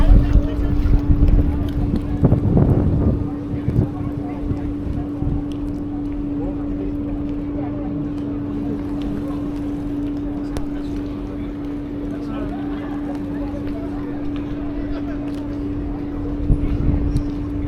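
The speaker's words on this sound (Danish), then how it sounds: "Der er nogen, der sejler forbi nu." Boat passing on a Copenhagen canal, a low steady engine hum with a sustained droning tone, close and fairly loud, mixed with wind buffeting and brief bursts of people talking nearby.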